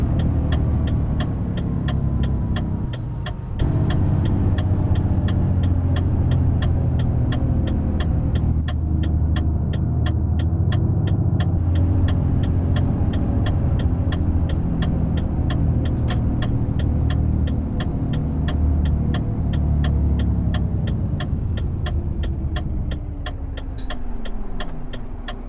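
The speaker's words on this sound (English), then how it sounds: "Got a nice engine note on this one, I quite like it." Truck engine in Euro Truck Simulator 2 droning steadily with a deep, harmonic note that shifts pitch slightly, accompanied by a regular ticking, probably an indicator, and brief tonal beeps over the top.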